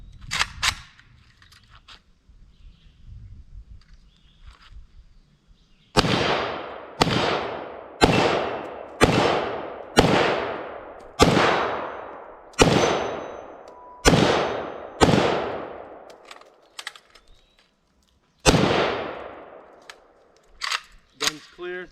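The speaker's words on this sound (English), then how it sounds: "Shooting some cheap Russian steel cased ammo, full metal jacket, cheapest shit I could find." An AK-47 firing cheap Russian steel-cased full metal jacket ammunition outdoors, about a dozen loud, sharp single shots at uneven intervals, each with a ringing decay, after a quieter stretch of low background noise.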